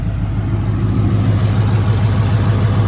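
A car fitted with a swapped Ford Coyote V8 idles with a deep, steady, loping rumble, loud and close with no other sounds.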